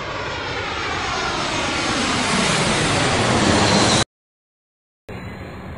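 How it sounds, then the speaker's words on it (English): Fixed-wing airplane engine roaring steadily and loudly, building slightly over about four seconds before cutting to silence, then a brief burst of engine noise resumes. "Plane."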